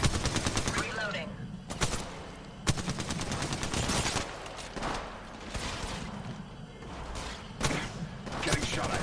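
Rapid automatic gunfire rattles in bursts during a match of Apex Legends Mobile, loud, close shots with sharp cracks and brief pauses, mixed with game voice lines.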